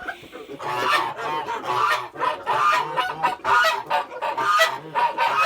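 Geese honk loudly nearby in repeated harsh calls, several bursts overlapping in an uneven rhythm, with no speech.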